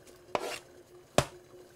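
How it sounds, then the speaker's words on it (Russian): A knife chops porcini mushrooms on a cutting board with two distinct, fairly loud thuds about a second apart, each followed by a brief scraping tail, in a quiet kitchen with no voices. "А эти белые грибцы нужно нарезать."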